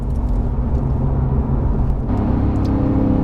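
A Porsche 911 GT3 Touring carries steady, loud engine drone and road rumble through twisty roads, with a slight shift in tone partway through as the car works through corners.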